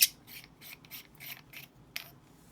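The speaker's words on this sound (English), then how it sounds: "If you were to undo the pommel," Atom Sabers lightsaber pommel being unscrewed, a run of small ratcheting clicks and metallic thread rubs in a quick uneven rhythm, close and fairly quiet, with a sharper snap near the end.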